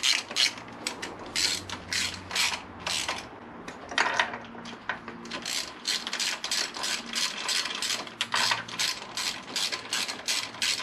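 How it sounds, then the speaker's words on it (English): A hand ratchet snugs up bolts during reassembly of a Honda VFR800 VTEC motorcycle, making rapid repeated clicking bursts in a steady rhythm, close and fairly loud, with brief pauses between strokes and no talk. "we're just going to snug them up and then come back with the torque wrench"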